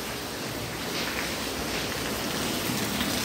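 Heavy rain pours steadily as a dense, continuous hiss of drops on surfaces, even and unbroken throughout, with no voices.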